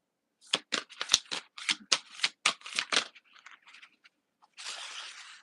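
A deck of oracle cards being shuffled by hand in a quick run of crisp riffling bursts, then a few softer scrapes, a pause, and a final longer riffle, close and alone.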